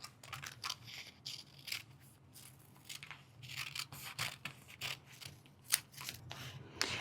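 Scissors roughly cut an applique shape out of fabric in short irregular bursts of snipping, quiet and close, with brief pauses between cuts and no talking.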